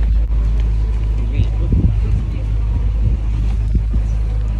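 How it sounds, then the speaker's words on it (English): A food truck rolls by close with a deep, steady engine rumble, while people chat over it. "That'd be some kind of candy truck."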